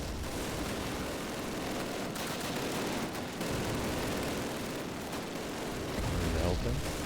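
Full-auto gunfire and battle noise from the 2003 Call of Duty, set on the Russian front, forms a dense, continuous roar of overlapping shots and rumbling blasts at moderate loudness throughout.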